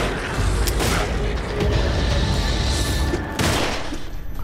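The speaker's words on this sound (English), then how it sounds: "Who's shooting at me?" Loud, continuous gunfire aimed at the player in the video game The Evil Within, a dense barrage of overlapping shots and booms with sharp cracks and a brief lull before another surge.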